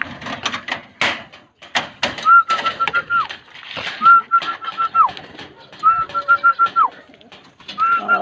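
Young pigeons coo nearby in a loft in soft, repeated rolling calls, with wing flutters and scuffling between them and a few whistle-like tones.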